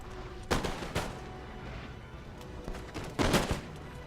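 Musket volleys crackle in a Napoleon: Total War battle, with two sharp bursts of massed gunfire several seconds apart and a rumbling din of distant shots and battle noise between them.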